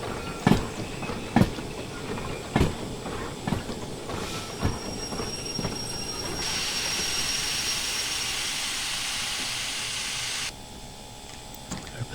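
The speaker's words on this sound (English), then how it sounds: "we should be able to start applying the train brake here" A steam locomotive in the Derail Valley train game as its train brake is applied: clanking rail beats give way to a loud, steady hiss of air that runs for several seconds before cutting off sharply.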